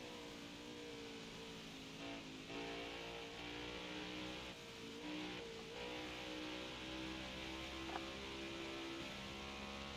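A race car lapping the Homestead Roval road course in a racing video game, its engine droning and shifting pitch steadily through gear changes and corners, continuous and even in level, with no talk.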